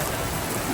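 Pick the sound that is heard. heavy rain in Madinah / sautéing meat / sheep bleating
heavy rain in Madinah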